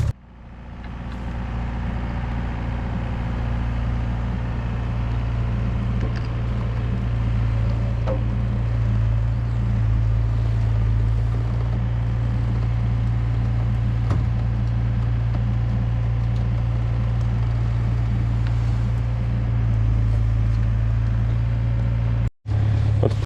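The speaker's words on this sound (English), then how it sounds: "I'm gonna pull it with the machine" A machine drags a 4x4 diesel man-lift with two flat tires onto a trailer by chain, its engine droning low and steady at close range for the whole stretch, with occasional faint clanks and a brief dropout near the end.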